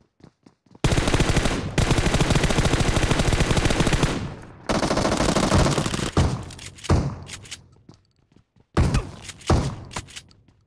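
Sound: shotgun fire in BGMI video game

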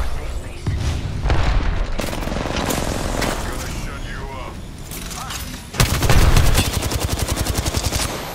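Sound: grenade explosion and gunfire in a video game

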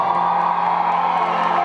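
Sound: studio audience applause and cheering for Sebastián

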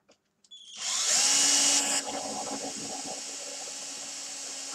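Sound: drill boring through plastic frame block of Bruder truck model

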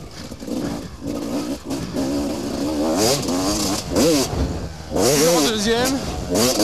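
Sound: motocross motorcycle engine shifting into third gear

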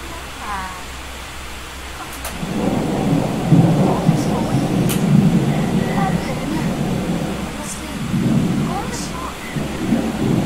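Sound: rain and thunder in a Disney Princess video game

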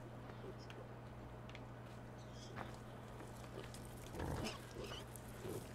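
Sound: pigs grunting in video game Farming Simulator 2015

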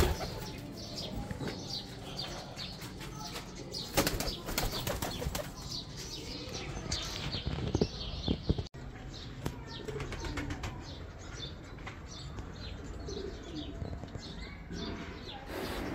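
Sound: pigeon pair flapping wings and cooing

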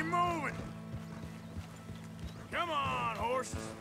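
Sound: horses galloping hooves in Red Dead Redemption 2 video game

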